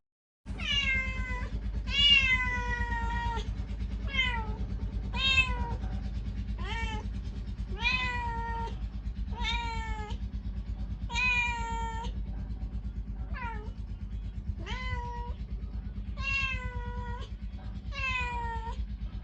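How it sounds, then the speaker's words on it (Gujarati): A cat on a farm meows over and over, about fifteen clear, close, drawn-out calls at irregular intervals above a steady low engine-like rumble. "આપણે એક મસ્ત મજાની બિલાડી દેખાઈ ગઈ, જેને આપણી ભાષામાં મીંદડી કહેવાય"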